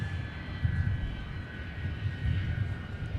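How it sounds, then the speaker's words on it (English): An airliner with Pratt & Whitney PW2000 engines rumbles steadily at an airport, a broad low roar with a faint high whine, moderately distant and constant. "listen to those Pratt & Whitney PW2000 engines"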